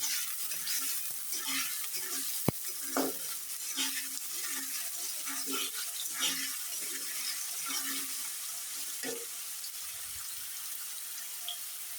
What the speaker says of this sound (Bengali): আলুটা প্রথমে আমি একটু ভাজি করে নেব।